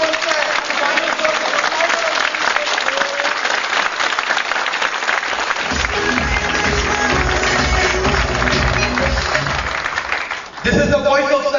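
Sustained audience applause from a large crowd at a speaking event, dense and steady throughout, with a low rumble of voices mixed in and a brief dip near the end before clapping swells again.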